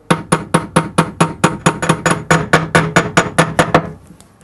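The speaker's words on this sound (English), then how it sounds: "just gently start tapping that outside edge" Hammer tapping a bearing into a front-load washing machine drum, about twenty sharp metallic taps in a quick, even rhythm, loud and close, then stopping.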